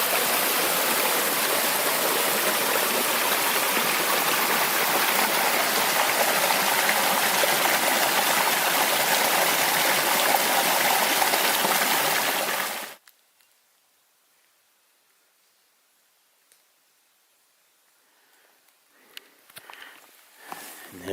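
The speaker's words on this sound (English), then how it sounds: "The water's coming out down there" A mountain brook flows loud and continuous with a broad rushing wash, then cuts off abruptly partway through, leaving near silence broken by faint footsteps and rustling.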